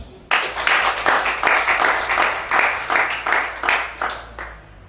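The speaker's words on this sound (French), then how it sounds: "Acclamez chacun" A church congregation applauds during a service, a loud, sustained burst of many hands clapping in rhythmic waves that swell and ease for several seconds before fading.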